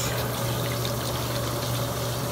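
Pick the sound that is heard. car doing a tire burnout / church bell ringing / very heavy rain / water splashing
water splashing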